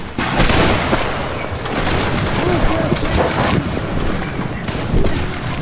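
A formed-up infantry line in a Napoleonic battle game lets off musket volleys, a loud, sustained crackle of many overlapping shots with heavier booming peaks, with voices talking underneath.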